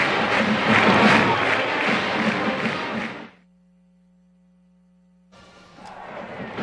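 A huge stadium crowd at Paulson Stadium in Statesboro roars and cheers as Georgia Southern kicks a field goal to take its first lead over UL-Monroe in a 2016 college football game; loud sustained roar, then abrupt silence, then fainter crowd noise returns.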